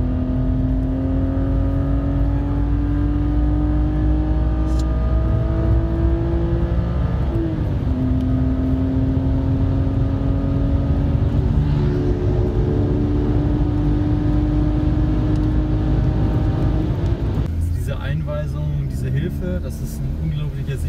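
Car engine on the Nürburgring Nordschleife heard from on board, a loud steady drone rising and falling in pitch through gear changes and throttle shifts, with faint talk over it.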